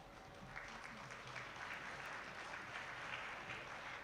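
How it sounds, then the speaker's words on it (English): An audience applauds after a performance at a faith celebration event, steady dense clapping that is soft and somewhat distant, with no voices on top. "Let us give her a round of applause."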